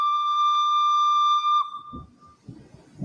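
A loud steam train whistle blasts once for about a second and a half, then cuts off, leaving faint rumbling and hissing.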